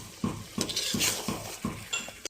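Desi chicken with onion, salt, turmeric, ginger and garlic paste stirred in a pot, repeated scraping strokes in a regular rhythm with clinks of a metal spoon against the pot, close and moderately quiet, ending in a sharp knock.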